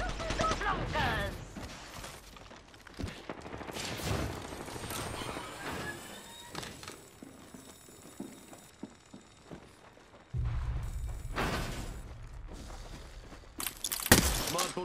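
Bursts of rapid automatic gunfire and shattering impacts in a frantic battle-royale-style video game, loud and close, alternating with quieter stretches of mechanical noise and occasional voices in the background.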